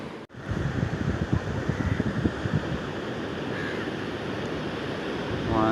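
Ocean surf at Palolem Beach in Goa, India, rolling in as a steady broad wash with a gusty, rumbling texture from wind on the microphone, fairly close and with no talking.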